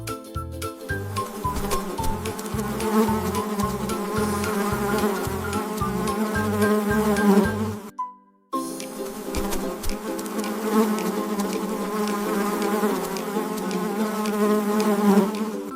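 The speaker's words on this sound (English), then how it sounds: "BZZZZ. The bee flies from flower to flower." A cartoonish bee buzzing sound effect drones steadily over a bright, rhythmic musical backing, cutting out briefly partway through before the buzz resumes.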